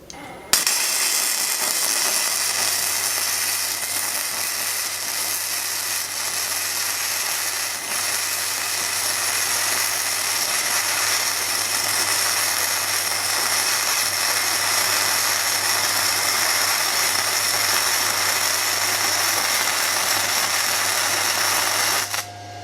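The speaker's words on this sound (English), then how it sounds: "welding with this, it is very, very smooth" Flux-core welding with an ArcCaptain MIG 145 Pro set at 120 gives a steady, dense crackling hiss with a low hum underneath, loud and close, running continuously for over twenty seconds with no talk.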